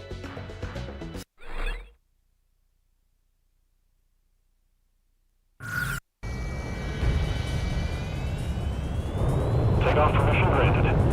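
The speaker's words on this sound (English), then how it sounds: "Garuda team, time to take off" A fighter jet takes off in Ace Combat 6 on Xbox 360. Brief game sounds and a long silence give way to a loud, steady engine roar with a rising whine that builds through the end.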